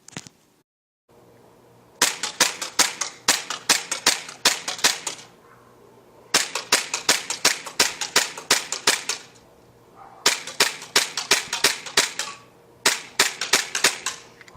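Airsoft 1911 Hi-Capa pistol fired on a range test, sharp snappy shots in rapid strings of about eight to ten, separated by short pauses, loud and close with a faint mechanical hum between bursts.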